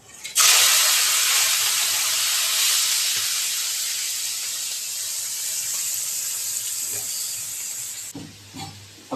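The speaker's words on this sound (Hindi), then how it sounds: "अब तेल गर्म हो गया है। अब इसमें सबसे पहले डालेंगे हम कोलंबी, जो कि साफ किया हुआ है सब अच्छे से।" Cleaned prawns (kolambi) hit hot oil with a sudden loud, hissing sizzle that fades slowly over several seconds, followed by a few faint utensil clinks near the end.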